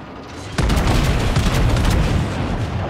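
Heavy naval guns fire in a World of Warships battle, likely from a Warspite battleship: a sudden loud boom that sustains as a dense, rumbling roar of gunfire and effects for several seconds.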